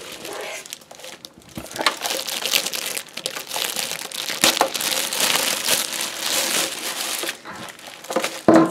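Plastic wrapping sealing a Heidi Swapp Minc foil machine crinkles and crackles steadily as it is handled, close and fairly loud, with brief pauses and no talking.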